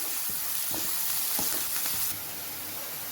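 Chopped onions sizzle and fry steadily in hot oil in a pan while a prawn curry base is cooked, with occasional stirring scrapes and clicks over a constant hiss, close and moderately loud.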